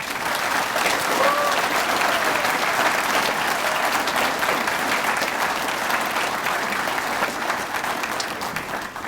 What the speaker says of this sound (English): Would you mind, again, everybody clapping and thanking Dean Piercy for putting this together?